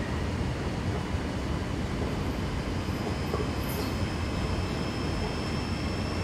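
A diesel locomotive engine runs steadily at throttle notch 4 in Train Sim World, a loud continuous low rumble with rail and wheel noise throughout and no talking.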